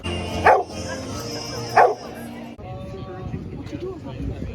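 A dog gives two sharp, loud barks about a second apart, followed by steady background noise and muffled voices.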